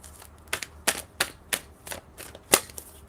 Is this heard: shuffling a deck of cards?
yes